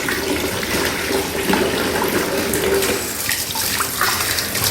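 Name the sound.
tap water running while washing mangoes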